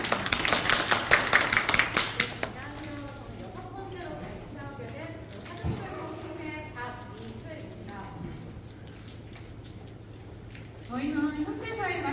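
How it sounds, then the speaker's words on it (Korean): A short burst of audience clapping opens a presentation at a tourism startup idea contest in Namhae, lasting about two seconds before a speaker starts talking over a quiet room. "박수로 시작할게요"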